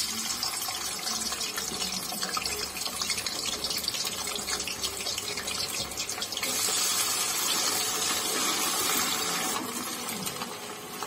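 Potato finger chips frying a second time in hot oil, a dense, steady sizzle and crackle that continues throughout and swells slightly midway.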